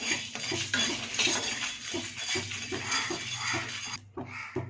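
A metal spoon scrapes and stirs dry spices and dried chillies roasting in a pan for thoothuvalai rasam powder, rhythmic clinks and rattles repeating steadily, close by, ending abruptly.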